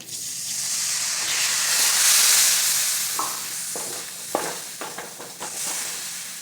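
Vinegar poured into a hot, spiced star fruit pickle mixture in a pan, giving a loud rushing hiss and steam that eases off, followed by several stirring scrapes nearby, with no talking.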